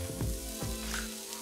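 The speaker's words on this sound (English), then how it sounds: "We can go ahead and add the scrambled eggs" Beaten scrambled eggs pour into a buttered pan and sizzle with a steady close hiss. Low thumps and soft scraping from the pan sit beneath it.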